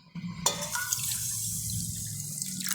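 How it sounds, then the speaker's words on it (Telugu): Water being poured off ragi and mustard seeds during washing makes a continuous close trickle and splatter, starting with a sharp knock and running steadily throughout. "ఇప్పుడు ఈ వాటర్ని పడేసేయాలి పడేసేసి దీంట్లో మళ్ళీ ఫ్రెష్ వాటర్ వేసుకోవాలి"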